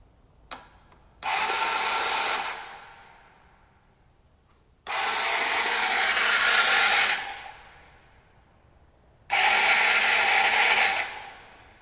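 A Honda Elite 150 scooter engine cranks over with its spark plug out during a rebuild, in three separate bursts of a steady whirring, rasping churn, each lasting about two seconds, close and clear.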